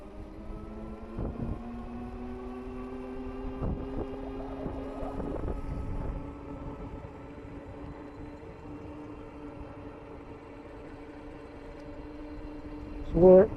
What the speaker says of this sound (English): we're going to do a hill test on the GhostCat F3, a full power, throttle only, going up this good sized hill